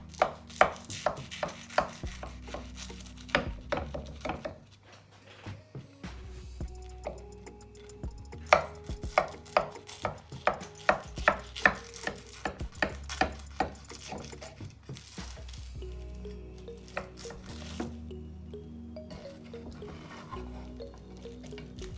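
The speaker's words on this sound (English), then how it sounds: "So it's time to slice this up and dish it out and then eat it." A knife cuts through a baked chicken pot pie, producing a quick run of close, crisp cutting taps and crunches against the dish. There is a short lull partway through, and no one speaks.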